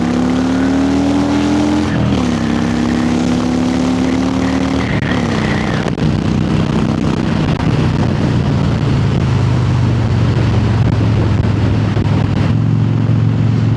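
A Harley-Davidson motorcycle rides on Snake Pass in the UK, its engine droning loudly and steadily up close, with pitch shifts as it changes gear and wind rushing beneath.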